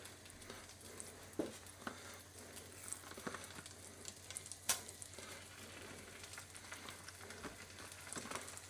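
Bacon strips sizzle in a frying pan, a faint steady crackle with scattered small pops and spits throughout, heard alone without talk.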